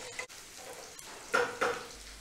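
Onion with two bay leaves sautés quietly in a pan. A soft, low sizzle is broken by a few stirring clicks and brief crackles.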